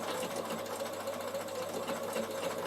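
A sewing machine set to slow speed stitches through wool felt for a draught stopper, giving a steady close mechanical whirr with a fine rapid needle rhythm throughout, no voices.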